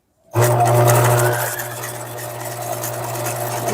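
A sewing machine stitching a zigzag scarf stitch while restoring a dress for a vintage doll starts abruptly, then runs as a loud steady hum with a fast mechanical chatter, close and continuous with no talking.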